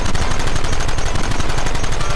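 Rapid video-game gunfire from a Red Dead Redemption shootout, a dense, continuous volley of loud overlapping shots that fills the whole stretch with no talk.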